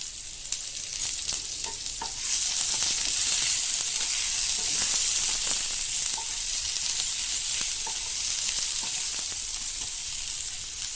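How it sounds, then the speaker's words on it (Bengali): Finely chopped small onion and half a spoon of nigella seeds sizzle in hot oil left over from frying fish, a loud continuous hiss that swells after the first couple of seconds, with faint scattered spatter ticks. "তেলে হাফ চামচ কালো জিরে, পেঁয়াজ কুচি, একটা ছোট সাইজের পেঁয়াজ আমি কুচো করে দিলাম।"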